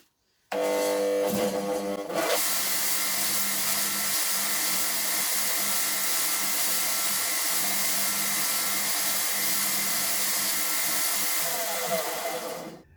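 A belt grinder fitted with a small wheel grinds a finger groove into a knife handle, a loud, steady abrasive roar that starts abruptly after a brief lower hum and runs continuously to the end.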